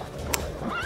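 A horse whinnies briefly in The Witcher video game, a short, close neigh with a rising squeal at the end, heard over a steady background of game ambience.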